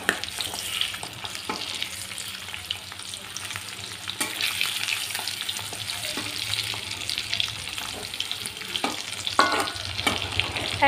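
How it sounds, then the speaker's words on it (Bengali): Egg pieces fry in mustard oil in a kadai over a medium flame, giving a steady close sizzle with occasional louder spits and crackles and no talking. "এবারে মিডিয়াম ফ্লেমে আমি ডিমগুলো একটু ভালো করে ভেজে নেব।"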